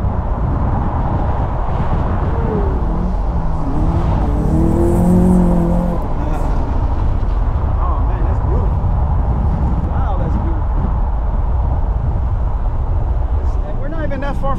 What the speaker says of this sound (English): You hear the Volkswagen, the muffler.